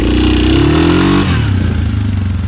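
Engine of a Suzuki KingQuad 500 quad ATV revving as the throttle is hit, a loud close rising drone that climbs in pitch then drops and settles into a rough mid-pitched run.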